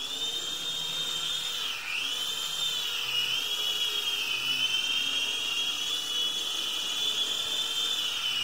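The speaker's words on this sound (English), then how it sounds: "I'm going to fly my airhog chopper all around my room." An Air Hogs toy helicopter flies around indoors in a room, its small rotor and motor giving a steady, high-pitched whine that dips briefly near the start, then rises and falls slightly as it moves.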